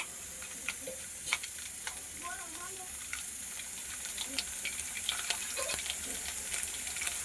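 Garlic fries in hot oil over a medium flame, a soft continuous sizzle with scattered sharp pops and light stirring clinks, close and fairly quiet.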